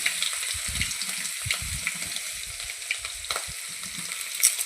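Ginger garlic paste hitting hot oil in a tempering with cumin and dried red chillies: a loud, steady hiss and crackle, close and continuous, with bursts of stirring thumps and no talking.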